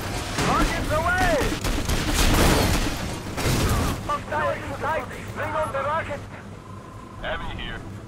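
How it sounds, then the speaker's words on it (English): Heavy gunfire and explosions hit a base during a Command & Conquer battle, with dense bursts of shots and booms under spoken game voice lines. "Taking heavy fire at the base."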